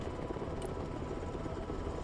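Military helicopter in a real-time strategy war game, a steady, loud rotor and turbine drone that fills the whole stretch with no break.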